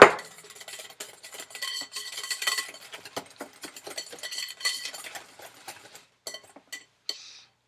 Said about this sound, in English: I'm going to mix that in.